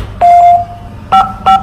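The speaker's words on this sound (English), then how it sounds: "Oh no, the alarm's on." Three loud electronic beeps from a pickup truck's alarm sound close by, one longer then two short chirps, over a low rumbling background.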